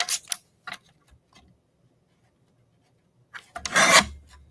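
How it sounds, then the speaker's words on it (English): Paper craft grass trimmed off the edges of a card, giving a few short rasping cuts early on, then a louder, longer scraping burst near the end, with quiet gaps between. "trim off the sides, the extra grass sticking out"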